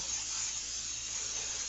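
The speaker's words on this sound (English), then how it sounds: "a little of this butter flavored cooking spray" Butter-flavored cooking spray hisses steadily into a pan in a home kitchen, a continuous close aerosol spray with no talking.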